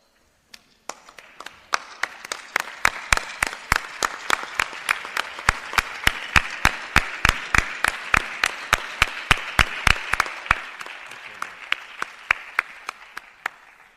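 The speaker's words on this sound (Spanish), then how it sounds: "Os voy a pedir que os pongáis de pie y aplaudáis a vuestros padres." Guests at a university diploma ceremony applaud parents with loud, rhythmic unison clapping, sharp regular claps that build, hold steady and then thin out to a few last claps near the end.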